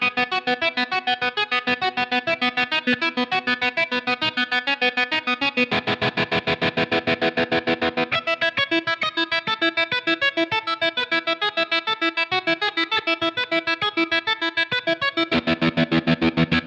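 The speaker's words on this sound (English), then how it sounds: "really intense square wave tremolo do the work" Electric guitar through an intense square-wave tremolo effect on a Line 6 Helix, chopping sustained chords and lines into a rapid, steady on-off pulse that lasts throughout, loud and alone with no talk.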